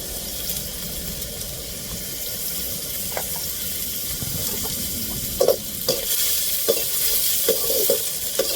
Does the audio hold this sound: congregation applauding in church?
no